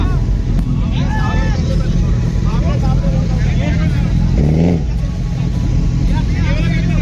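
Several Suzuki Hayabusa motorcycles roar through a burnout, a loud sustained engine blare with a sharp rising rev burst midway, while people talk and shout over it.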